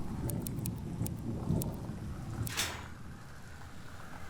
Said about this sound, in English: That's really, really loud thunder.